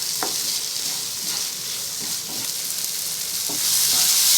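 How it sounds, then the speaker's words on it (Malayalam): Finely chopped capsicum stirred and fried in a pan for bread chilli, a loud bright sizzle with repeated spatula scrapes, swelling louder toward the end, no voices. "ചെറുതായി അരിഞ്ഞത് നല്ലോണം ഇതിലോട്ട് മിക്സ് ചെയ്ത് കൊടുക്കുക."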